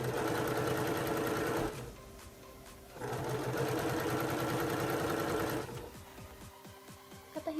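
A sewing machine runs a 0.2 cm stitch along both edges of a shoulder strap made from an old kimono obi. It whirs in two fast, steady bursts separated by a short pause, then slows and stops.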